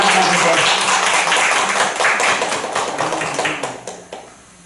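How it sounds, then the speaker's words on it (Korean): A church congregation claps in a dense burst of applause that thins out over a few seconds and dwindles to scattered claps. "영광의 박수."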